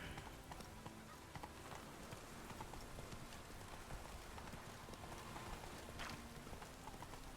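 Steady clip-clop hoofbeats of Geralt's horse Roach in the Witcher 3 video game, a continuous running rhythm close by with a faint rain-like hiss and no clear talk.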